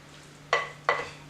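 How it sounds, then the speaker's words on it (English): Two short scraping strokes of a spoon stirring cheesy chicken casserole ingredients in a bowl, close and moderately loud, separated by a brief pause against a quiet kitchen background. "So just stir and combine all this stuff together."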